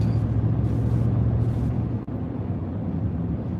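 A car engine breathing through a MagnaFlow exhaust gives a steady, close, deep rumble at low idle or cruise, with one brief dip partway through.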